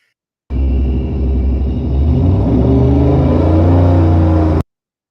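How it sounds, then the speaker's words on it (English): A turbocharged car engine runs steadily for about four seconds, a loud, close rumble with a low idle that builds slightly in the second half before cutting off abruptly. "we want to hear the motor run"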